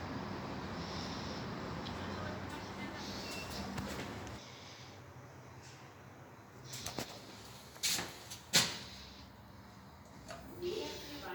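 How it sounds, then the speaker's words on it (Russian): A modernized Toshafus passenger elevator in Tashkent, running at 0.80 m/s, opens its doors. A steady cabin hum drops away, then a few short mechanical clunks and rattles follow, close and moderately loud. "Двери открываются."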